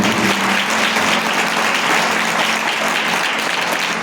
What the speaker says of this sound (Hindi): तालियां जोर से निकलिए।